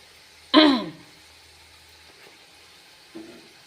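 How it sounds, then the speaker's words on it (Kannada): A single sharp cough, close and fairly loud, in a quiet room, followed a few seconds later by a faint short throat sound. "ಅಂಥದ್ರಾಗ ಒಂದು ಕೆಮ್ಮು ಬರ್ತದೆ ನಾನು"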